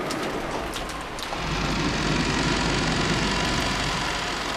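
Steady rain falling in the Umineko video game, a continuous hiss that swells louder after a brief quieter opening and then holds even and close, with no voices.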